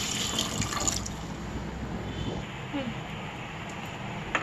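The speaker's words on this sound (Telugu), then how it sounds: "డబ్బాకి 2 డబ్బాలు వాటర్ అనేది వేసుకోవాలి." Water pours into a cooking pot of basmati rice for bagara rice, two measures of water to one of rice, making a steady, close splashing rush that is strongest in the first second and then settles to a softer running wash.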